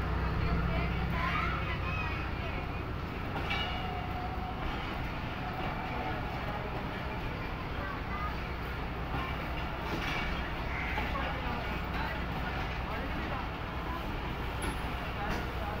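Steady rumble and rattle inside the Jaffar Express, pulled by a U20 locomotive between Rawalpindi and Wazirabad Junction, as it runs on the rails, a continuous, even roar with faint clatter throughout.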